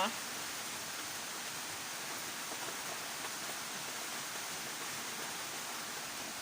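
Steady rain falls on a plant-nursery greenhouse, a dense, even hiss of drops with no gaps that holds at a constant moderate level throughout.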